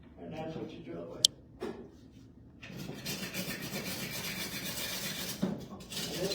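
Hand drilling into stone while shaping a bannerstone, a steady gritty rasping and rubbing that starts faint and then grows into continuous close scraping, with a couple of sharp clicks.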